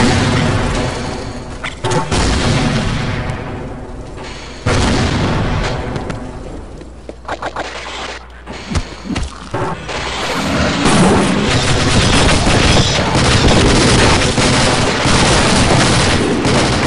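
Loud, booming RPG rocket explosion in Half-Life (Brutal Half-Life mod, training room), a heavy blast followed by rumbling gunfire and further bursts within dense game audio, with someone talking over it.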